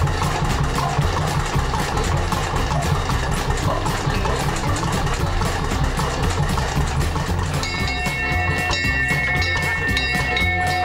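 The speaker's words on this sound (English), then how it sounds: "listen to the stuttering notes of Dory's wonderful Bollinger engine," A Bolinder engine on a canal boat at a canal festival on the Shropshire Union Canal, thumping with a loud, steady, slightly uneven rhythmic beat close by, with a faint whistle-like tone joining near the end.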